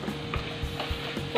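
Chili and coriander powder fry in a pan for paneer matar masala while a spoon stirs, a low steady sizzle broken by soft scraping strokes, close and without speech.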